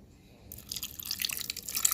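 A little water is poured into a pan of food cooking on a stove, a soft splashing trickle that starts after a quiet half second and builds steadily, close and clear with no talking.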